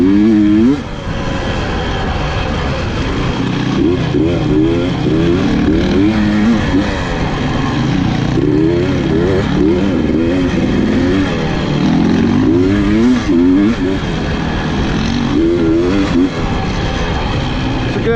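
A 250cc two-stroke gas dirt bike rides a wooded trail with other riders on a KTM and a 300, and its engine revs up and down loudly and steadily for the whole stretch, without any talking.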